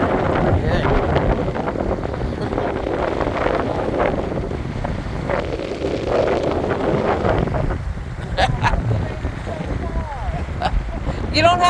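Strong, chilly wind buffets the microphone at a small beach in Edgewater, a continuous loud rushing roar with gusts, while people talk over it and water laps nearby.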